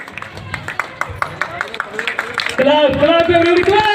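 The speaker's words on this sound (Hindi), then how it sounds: "तालियों से स्वागत करेंगे" An audience at a January 26, 2024 gathering claps in welcome with quick, sharp, rhythmic slaps at moderate distance, then a loud voice rises over the clapping.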